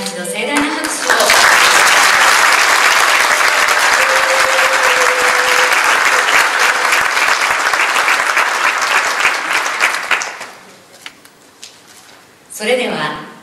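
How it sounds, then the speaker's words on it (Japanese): A large audience at the Yomiuri Theater Awards ceremony gives loud, dense applause that swells quickly, holds for several seconds, then fades, followed by brief rustling and a short burst of a voice. "優秀演出家賞を受賞された皆さんに今一度盛大な拍手を。"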